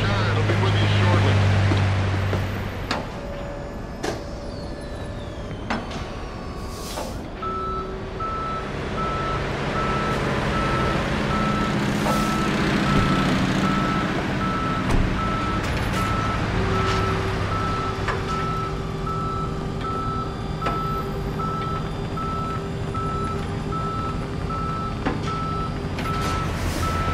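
A tow truck sounds reversing beeps in the police patrol video game Police Simulator, a steady repeating tone over a loud continuous engine and ambient rumble, with no voices.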